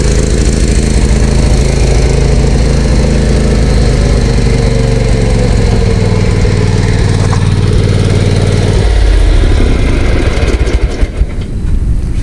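A lawn mower engine runs loud and close after carburetor repair, still carrying a little trash in the carburetor; a steady throbbing drone that shifts pitch near the end and turns slightly rough.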